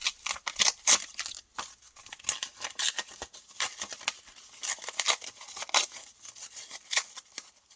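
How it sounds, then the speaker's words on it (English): Paper doily being ripped around its edges by hand, a series of sharp, close tearing and crinkling bursts in an irregular rhythm with brief pauses between, no voices. "I'm going to rip around my doily."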